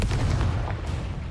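A Confringo fire spell from Hogwarts Legacy bursts in a dense, rumbling blast that fills the moment and decays without a break, with no voices over it.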